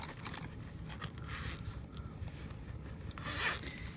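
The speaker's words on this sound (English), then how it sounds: "Zippers up." Zipper on a small mesh bag slides closed in quick, faint rasping strokes, close and alone.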